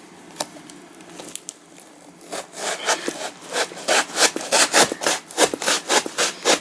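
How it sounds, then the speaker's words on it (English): A sharp Stanley multi-tool blade slices through a cardboard box, starting with a few scattered scrapes and building into a fast run of loud rhythmic rasping strokes, close up with no talk. "I'm using my Stanley multi-tool to open this box."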